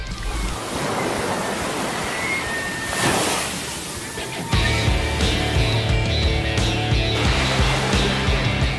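Waves break and wash along a beach shore on the Sumbawa Strait, a continuous loud sloshing surf with wind, growing fuller and heavier partway through.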